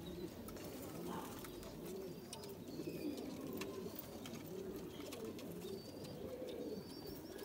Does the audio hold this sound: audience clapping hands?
no